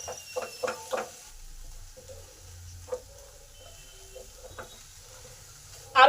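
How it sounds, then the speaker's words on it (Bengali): Ground spices and chopped tomato are sautéed in a pan for a winter eggplant dish with spring onions and peas: a faint, low sizzle with a few spoon taps and scrapes, then a louder clatter at the end. "এবার এই সমস্ত কিছু ভালো করে কষে নেব।"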